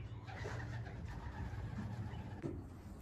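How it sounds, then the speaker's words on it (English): Young racing pigeons out on one of their first flights, a small flock circling overhead outdoors, with soft cooing and faint wing flutters over steady outdoor ambience. "We're just outside watching the young birds flying around."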